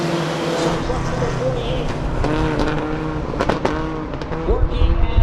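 Race trucks roar around a short oval track toward turn three, engines droning steadily with rising revs and a few sharp tire-squeal bursts near the end, under a race commentator's voice.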